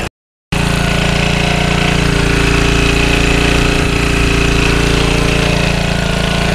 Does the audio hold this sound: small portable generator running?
yes